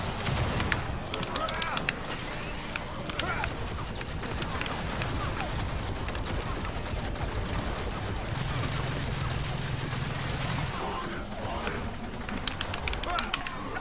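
Gunfire in the Gears of War 4 campaign: sharp bursts of shots crackle intermittently amid a continuous noisy battle bed, with scattered single reports near the start and end.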